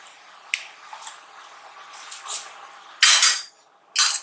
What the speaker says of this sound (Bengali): চামচি দিয়ে ভালো করে মিশিয়ে দিই